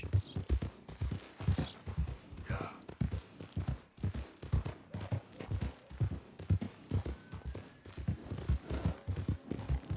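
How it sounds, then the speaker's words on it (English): Horse hooves clip-clop steadily in a video game, an even, rhythmic trot of close, distinct thuds running without a break from start to finish. "Cara, esse cavalo aqui tá coisa linda demais, suave, suave."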